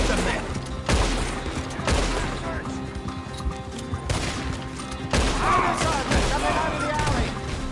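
Shootout gunfire in the video game Red Dead Redemption 2, sharp shots cracking out every second or so amid a busy mix of game sounds, with voices talking over the action.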